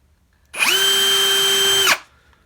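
A power drill fitted with a 1/16-inch bit bores a small hole in drip irrigation tubing, giving one loud, steady whine of about a second and a half that starts and stops abruptly, with no talk.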